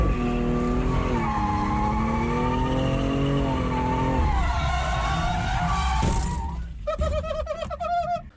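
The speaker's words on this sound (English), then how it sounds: "So we actually hit a barrier" A BMW M3 drifting: a loud, revving engine and long squealing tires sweep up and down, then a sharp impact as the car hits a barrier, followed by fainter rattling engine tones.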